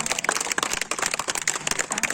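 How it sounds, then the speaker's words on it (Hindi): A room full of people clapping for a parent at a local gathering, a dense steady burst of applause, close and fairly loud. "एक जोरदार तालियां।"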